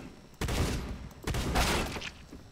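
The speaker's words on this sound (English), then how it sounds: "Oh yeah, sniper rifle." Gunfire from the video game CS:GO comes in two heavy, booming bursts, each with a ringing tail and a short gap between them, the first reading as a sniper rifle shot.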